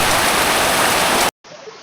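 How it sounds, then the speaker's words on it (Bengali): Heavy rain pours down in a dense, loud, continuous hiss that stops abruptly, followed by a quieter stretch of rain. "তোমরা দেখতে পারলা কি পরিমাণ সাউন্ড, শুধু বৃষ্টি আর বৃষ্টি"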